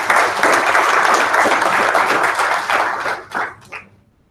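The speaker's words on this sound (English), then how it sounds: "Another round of applause for Sri Kumar" Dense, steady applause from a conference audience honoring a speaker, loud and continuous for about three seconds before thinning into a few last claps and falling silent.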